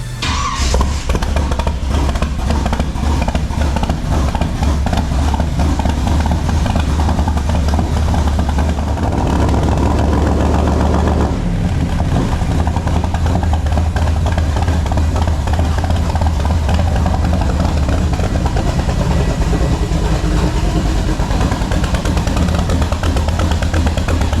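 A custom 1959 Chevy Apache truck engine, built to be extremely loud, fires up and runs with a heavy, rough rumble that stays loud and close throughout, with occasional blips in revs.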